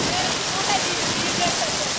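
Water gushes without pause from a pipe set beside a waterfall at a scenic spot in Minas Gerais, a loud broadband rushing that fills the scene, with a voice faintly audible.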